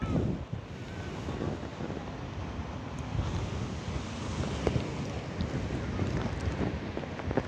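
Strong morning wind gusting by the sea at Taipei, with surf and waves rolling in, a steady loud broadband roar of wind and water throughout, no voices.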